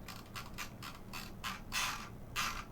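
A Logitech G502 SE Hero mouse scroll wheel clicks and rolls, a quiet series of rapid ratcheting ticks in short bursts, close up and faint.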